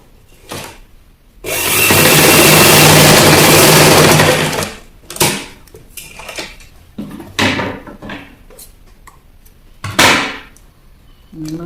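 A sewing machine stitches a peplum blouse in one loud, continuous whirring run of about three seconds, followed by shorter bursts of stitching and handling noises with quiet gaps between them.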